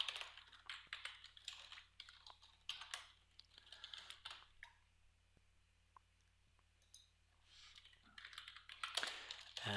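Rapid bursts of typing on a computer keyboard while coding a to-do application, clicking in quick runs with brief pauses and a quieter stretch in the middle, close and alone.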